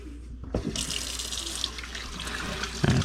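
Running tap water pouring steadily into a sink while skinned squirrel pieces are rinsed, a continuous close splashing hiss after a brief start, with a sharper splash near the end.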